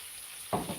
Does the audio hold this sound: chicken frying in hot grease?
yes